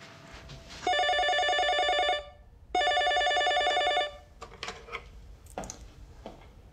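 A telephone rings out while a call is placed, two long electronic ring bursts separated by a short gap, followed by quieter rustling and faint handling sounds.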